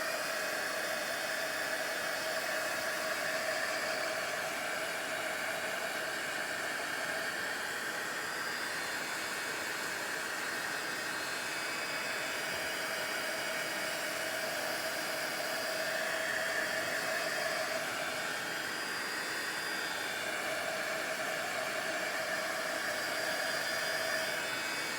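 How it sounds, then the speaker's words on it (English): A heat tool blows steadily on paint drying across a junk journal page, a constant close whooshing hiss that runs unbroken for the whole stretch with no talk. "I'm going to hit that with a little heat again."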